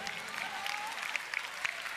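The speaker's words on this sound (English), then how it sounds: "Everybody should be clapping" Congregation clapping during a worship service, a steady dense wash of applause with a few sharper claps standing out over a faint murmur of voices.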